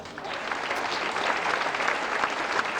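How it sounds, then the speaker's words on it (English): A cruise ship audience claps for a band's piano player, a dense, steady round of applause from many hands that holds at an even level throughout with no voices breaking through. "Nice big round of applause for Mr. Bob Good"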